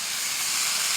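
Bamboo shoots and seasoning stir-fried in a hot pan give a continuous, even sizzle and hiss, fairly loud and close, with no talking.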